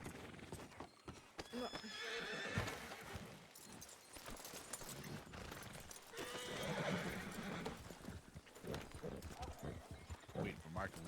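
Within a video game, a horse whinnies loudly twice and its hooves clip-clop at a walk, close by, while voices talk over parts of it.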